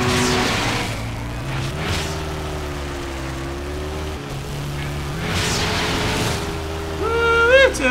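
A car boosting during a race in RAGE, a steady loud engine drone with rising and falling pitch, swelling whooshes and a sharp squeal near the end.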